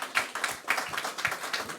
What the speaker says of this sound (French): On peut les applaudir, merci.